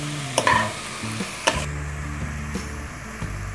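Potatoes and carrots stirred with spices in a frying pan, a spatula scraping and knocking in short strokes over a light sizzle, with no voices.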